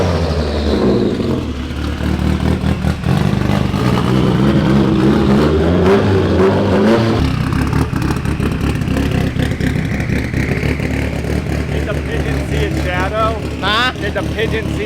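A newly built car engine idles on a dyno with a loud, lumpy, choppy rumble that stays steady and close for the whole stretch, while people talk over it.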